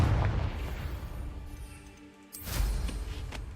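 A Confringo explosive curse goes off in Hogwarts Legacy with two booming blasts, one at the start and a louder one partway through, set against a steady rumbling game background.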